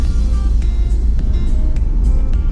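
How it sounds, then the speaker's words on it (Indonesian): Car interior while driving: a steady, loud low engine and road rumble fills the cabin throughout, with faint ticking above it. "saya lagi dalam perjalanan jadi syuting di dalam mobil"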